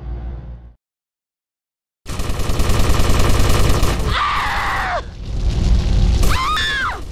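Gunfire in GTA Vice City Stories bursts out loud and dense after a brief silence, a sustained rattle of shots mixed with game effects and screams.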